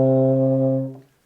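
A euphonium sounds a single sustained low C, fingered with valves 1 and 3, in a beginner warm-up; the tone is steady, full and close for about a second before it fades out.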